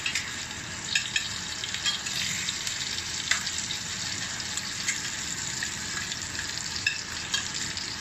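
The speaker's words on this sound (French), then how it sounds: "Il faut essayer de le décoller un petit peu pour laisser le beurre s'infiltre en dessous de la viande." Steak frying in butter in a pan, a loud continuous close sizzle and crackle with occasional small pops and stirring scrapes, no talking.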